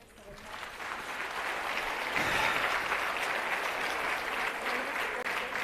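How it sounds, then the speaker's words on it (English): Sustained audience applause at an occupational health and safety conference as panelists receive gifts, a dense steady wash of many hands clapping that builds quickly and holds at full strength throughout. "I would like once again to invite you to a round of applause"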